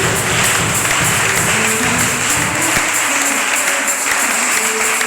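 Sustained applause from a church congregation at a Sunday service, a thick even wash of clapping hands continuing throughout at steady loudness.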